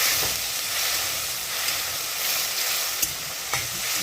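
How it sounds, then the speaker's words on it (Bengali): Dhoka curry sautés in a pan after a splash of water, giving a loud, continuous steamy hiss and sizzle with a couple of brief stirring knocks, close and unbroken. "কষিয়ে নেওয়া হচ্ছে ভালো করে অল্প করে জল দিয়ে দেওয়া হলো"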